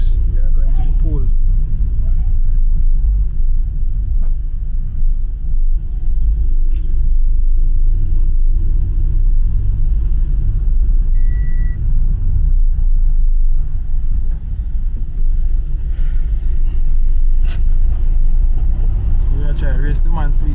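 Car engine and tyre rumble from inside a moving vehicle on a road near a beach resort, steady and loud throughout, with occasional voices talking over it.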